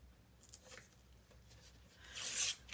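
The rough end of a spatula burnishes paper on a mini album panel, making quiet scraping and rubbing strokes close by, ending in a brighter, harsher rasp near the end; no voices.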